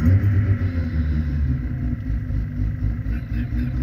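Bridgeported rotary engine in a race-extension Mazda RX8 idling after starting, a loud, steady, lumpy low rumble close by that keeps going throughout.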